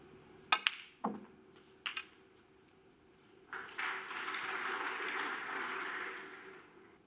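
Artificial applause played over a snooker broadcast of a Scottish Open match between Ronnie O'Sullivan and Mark Selby: a few sharp clicks early, then a steady broad wash of clapping in the second half, moderately loud and continuous.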